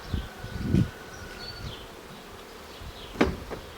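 A swarm of honey bees buzzes around a beekeeper catching it with a frame box, a soft whine under rustling and a couple of close thumps and knocks.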